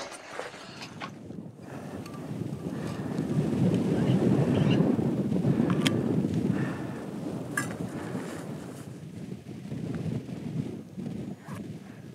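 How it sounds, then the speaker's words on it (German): Fresh wind gusting across a snowy mountain summit in the Swiss Alps of Grisons, a broad rumbling roar buffeting the microphone that swells in the middle and then eases, with no voices. "Es bläst ein frischer Wind."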